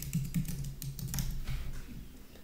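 Quick, close clicking of keys on a computer keyboard as an email address is typed, a brisk irregular patter lasting a couple of seconds.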